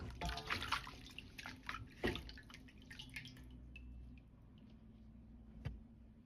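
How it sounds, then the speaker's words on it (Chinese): Chinese yam rinsed under running water to clear off mud and sand: splashing and dripping for a few seconds, with a small clatter partway through, then a quieter trickle and one last drip or knock. "一定要把泥沙先清洗干净。"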